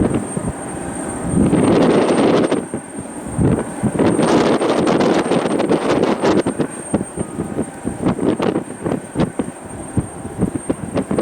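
Airliner taxiing across the ground at snowy Cleveland Hopkins airport, a steady broad engine roar with gusty wind buffeting the microphone throughout, no talk.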